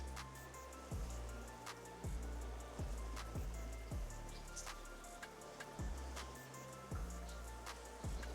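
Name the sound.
light water shower sprayed on coated windshield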